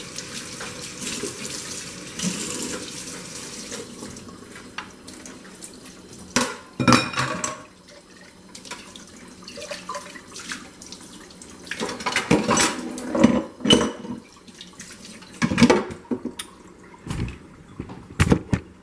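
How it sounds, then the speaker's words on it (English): Tap water runs into a kitchen sink while dishes are rinsed before loading a dishwasher, a steady stream broken by sharp clinks and clatters of plates and cutlery in the middle and later stretches. "I am rinsing these to put them in the dishwasher"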